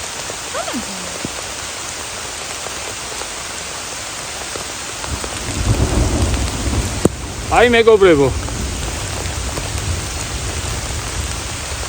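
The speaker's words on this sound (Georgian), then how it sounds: "ასეთ მაგარ წვიმაში." Steady, torrential rain hisses throughout outdoors on a hike, with a person speaking briefly partway through.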